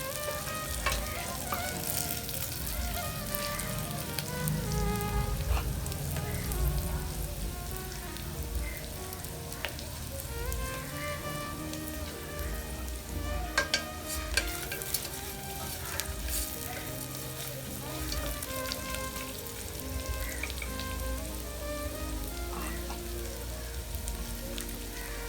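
Onions sizzle and crackle steadily in a pan, a dense continuous frying hiss with occasional stirring clatter, in a Kerala-style kitchen making coconut rice with Malabar chicken; no one talks.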